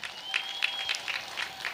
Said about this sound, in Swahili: Hebu makofi mengi sana kwa mwanasheria mkuu wetu